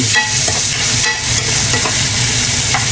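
Liver sizzling and frying in a pan for pancit, a loud continuous crackle with stirring and scraping throughout, no voices.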